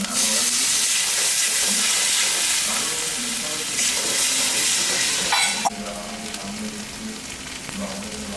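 A pan of spice masala sizzles and hisses loudly and steadily. Water then goes in with a sudden burst, and a softer bubbling sizzle follows.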